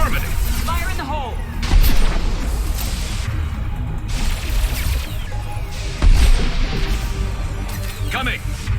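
Grenade explosion and gunfire in Mass Effect 2 combat on Insanity difficulty, with loud booms and repeated shots under voices and battle chatter, two heavy blasts standing out.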